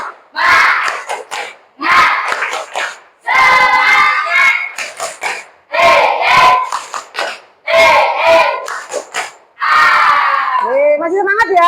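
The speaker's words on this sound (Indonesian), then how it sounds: "Ayo coba tepuk semangat lagi." A class of children shouts a rhythmic 'tepuk semangat' clapping cheer, with loud bursts of chanting and claps in a repeated pattern, close and energetic.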